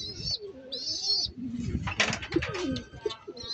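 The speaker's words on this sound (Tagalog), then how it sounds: "Yan yung ating kalapate. Pangalawang ibon siya ngayon." A racing pigeon home from a 60 km race from San Pablo, Laguna, coos softly and close by, with a few chirps from other birds and faint talk in the background.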